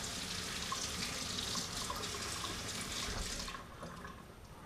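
Water from a tap runs steadily over frozen crappie fish as they are rinsed, a close hissing splash that tapers off near the end.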